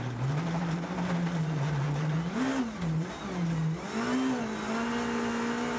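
A four-wheel-drive rally car on studded tyres pushes along a snowy, icy stage in Latvia, its engine note swooping up and down through a tight left turn before climbing steadily into a long flat-out run, loud and continuous.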